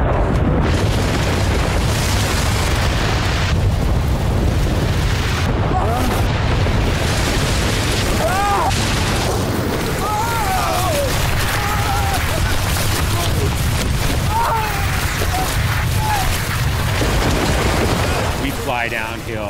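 A continuous heavy roaring rumble of an Alaskan avalanche with cracking, booming bursts, loud and close, while voices shout faintly underneath.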